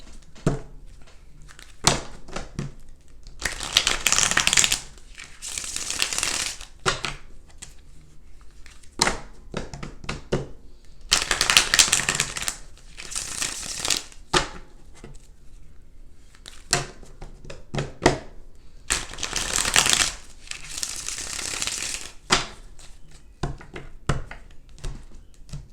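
A tarot card deck is shuffled in repeated bursts of riffling and flapping, several seconds each, separated by quieter taps and card handling close by.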